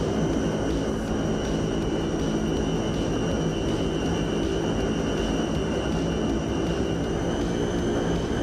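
A Fokker F27 turboprop airliner taxis in Microsoft Flight Simulator 2024, its engines giving a loud, steady drone with a constant high whine that holds unbroken throughout, with no talking.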